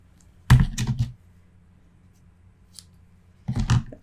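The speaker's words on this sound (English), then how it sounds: "And there's my scissors." Scissors snipping seam binding ribbon, two short clusters of crisp close cuts separated by a quiet pause, with a faint click between them.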